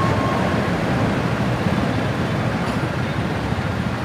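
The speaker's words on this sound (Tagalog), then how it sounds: "Ayun, yung LRT, LRT1." An LRT-1 light rail train rumbles past in Quiapo in a loud, steady roar with a broad metallic wash, continuous throughout and no voices.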